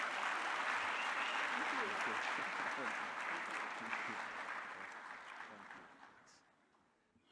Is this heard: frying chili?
no